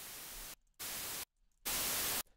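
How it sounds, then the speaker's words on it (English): White noise generated in SuperCollider sounds as a steady, broadband hiss in three separate bursts with silent gaps between them, the last burst the loudest. "White noise is a equal energy per band"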